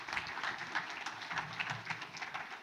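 A crowd at a tourism conference claps in a dense, fairly faint and distant patter that holds steady for under three seconds.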